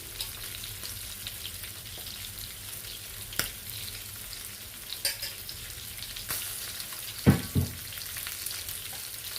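Sardines cook in raw coconut oil with a steady low sizzle, broken by a few louder pops and stirring knocks from the pan, heard close with no voices.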